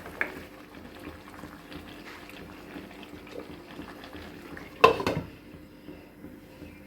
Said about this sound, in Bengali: এবার মাংসটা আমার ফুটছে